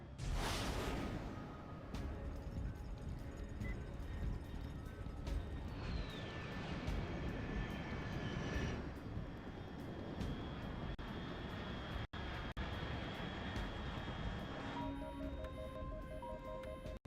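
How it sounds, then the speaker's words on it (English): An unidentified aircraft roars overhead in Metal Gear Solid Delta: Snake Eater, a loud sustained engine drone that swells past close by, with whooshing air and game tones layered over it. "Control, unidentified aircraft detected."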